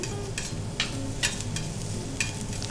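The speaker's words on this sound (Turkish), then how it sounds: "ızgaramızı hafiften yağlıyoruz ve önce havuç olmak üzere sebzelerimizi yavaş yavaş pişirmeye başlıyoruz" Vegetables, carrots first, cook on a lightly oiled grill with a soft continuous sizzle, broken by a few sharp scraping or turning clicks, close and even in level.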